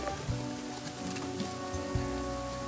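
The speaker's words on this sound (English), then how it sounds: "the rain has stopped, the sound of the rain is still going" Continuous patter of rain in the video game The Flame in the Flood, a dense steady hiss with occasional louder drops and a faint low hum underneath.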